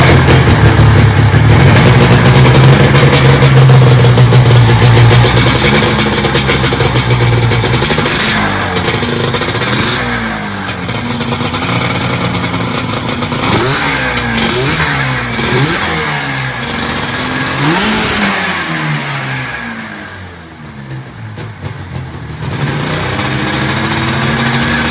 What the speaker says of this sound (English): The sled was too loud, so we'll run it here without the microphone for you.